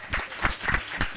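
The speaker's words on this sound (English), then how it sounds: "Thank you for clapping for me." A short burst of audience applause rises and falls at a youth debate competition, with brief, scattered clapping.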